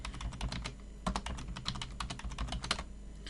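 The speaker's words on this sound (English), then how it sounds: "the way you can actually add a password to a user is by typing in PASSWD and then the user" Computer keyboard typing a password command on an Ubuntu server, a quick irregular run of crisp close keystrokes with no talking over them.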